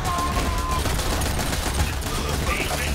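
Dense, continuous Borderlands 3 gunfire and explosions, loud and chaotic, with rapid bursts layered over a constant roar and faint voices mixed in.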